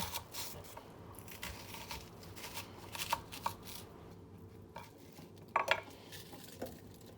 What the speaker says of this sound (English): I'm going to just chop this up into sort of big chunks and toss those in